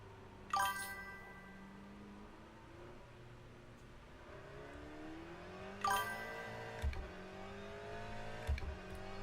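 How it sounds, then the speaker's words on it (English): Race car engine in the Le Mans Ultimate racing game, revving up through the gears with rising whine, a couple of sharp upshifts and faint chimes, moderately quiet. "Now the car doesn't sound as loud as it did earlier."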